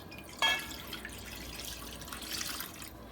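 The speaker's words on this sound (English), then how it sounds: "We're going to add in 2 cups of water" Water poured into a large pot on a stove for cooking grits, a brief splash at the start followed by a steady soft stream, fairly quiet and with no talking.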